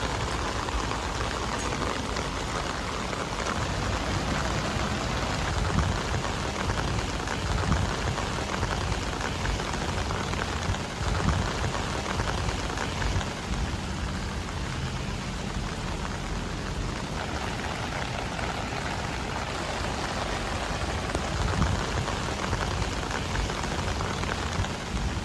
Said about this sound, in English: So next, I put it through a heavy rain test.